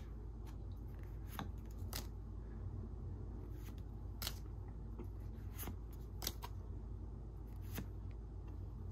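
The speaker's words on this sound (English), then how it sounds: "this is the hardest pack so far to open. Couldn't just rip it open like the rest" A Pokémon Lost Origin booster pack is worked open by hand, giving faint, sparse crinkles and sharp snipping ticks of foil wrapper spread over several seconds against a low steady hum.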